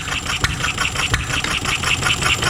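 A running miniature engine whose governor fires the spark more often as it slows, giving a steady, close rapid chugging of evenly spaced firing pulses with no talk.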